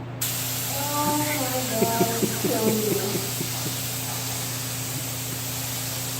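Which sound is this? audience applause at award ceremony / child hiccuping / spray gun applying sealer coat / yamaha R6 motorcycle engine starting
spray gun applying sealer coat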